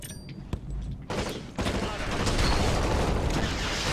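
Grenade blast and heavy gunfire in the PS2 shooter Black, sharp cracks near the start giving way to a dense, continuous roar of explosions and shots.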